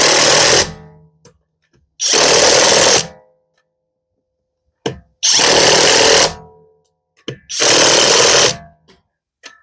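A PROTMEX cordless 1/2-inch impact wrench drives lug nuts onto a wheel in four loud, close hammering bursts of about a second each, separated by short silences and faint clicks.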